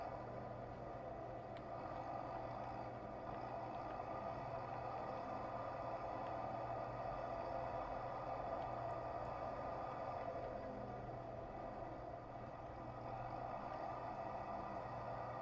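Tractor engine running steadily at close range, a continuous broad droning hum with low rumble that holds level throughout without pauses.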